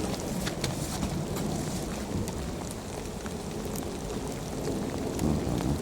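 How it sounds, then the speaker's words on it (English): Rain falls outdoors at night near an old boys' school in a steady, dense patter with scattered louder drops hitting nearby surfaces, with no talking. "it's raining and the camera's flashing"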